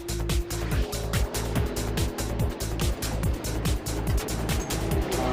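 A race car at the Nürburgring 24 Hours endurance race roars with a loud, continuous engine drone broken by rapid rhythmic pulses as it holds its pace on track.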